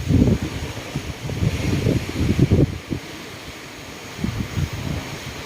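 Strong water waves surging around a ship at night, heard as a rumbling low roar with wind buffeting the microphone, in swells that rise and fall over a few seconds.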